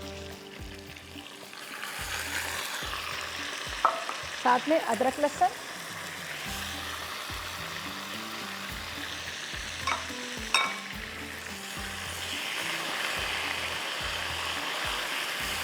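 Meat pieces fry in a pan for a chicken pulao, a continuous soft sizzle with stirring clatter and occasional utensil knocks, while someone talks over it.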